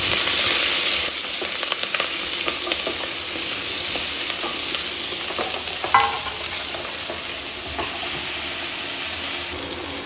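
Vegetables for braised ox cheeks roast in a pan, opening with a bright hissing burst that settles into a steady close sizzle, punctuated by repeated spoon scrapes and one louder clatter as they are stirred.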